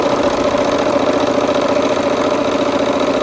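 A sewing machine stitches quilt rows together for a Peppermint Frost quilt block, giving a steady, close, continuous motor hum that runs without a break and with no talking.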